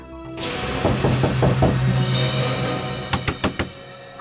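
A fist knocks on a flat's door in a quick series of four or five firm raps near the end, heard under a dense dramatic music bed that fills the scene.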